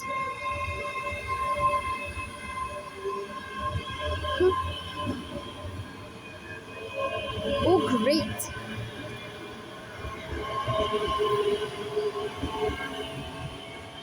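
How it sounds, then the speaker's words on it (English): A train rumbles and rolls steadily away from Stirling station, with rail squeal and a brief high whine midway; a person speaks briefly over it. "there goes that train away to the distance"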